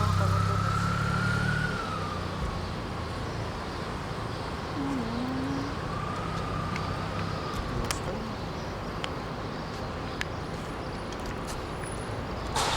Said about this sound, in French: On va attendre que la moto arrête de faire du bruit